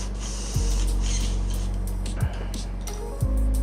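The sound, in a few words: airbrush spraying paint on large miniatures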